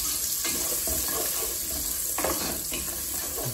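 Garlic fries in a pan with a loud, continuous sizzle and crackle, close up, broken by a few stirring scrapes, with no talking.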